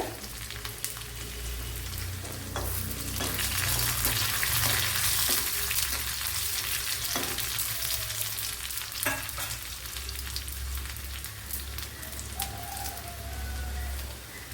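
Shallots and dried red chillies frying with mustard seeds in oil for a Kerala ash gourd curry, a loud dense crackling sizzle with scattered pops and spatters running continuously for the whole stretch.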